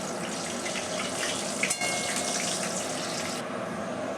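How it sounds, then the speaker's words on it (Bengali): Whole garam masala, dried red chillies and bay leaves sizzle in hot oil as a tempering for Bengali mutton curry with potatoes, giving a steady, close, even hiss throughout with no talking. "এবার আমি ফড়ানোর জন্য গোটা গরম মশলা শুকনো লঙ্কা আর তেজপাতা দিয়ে দিলাম"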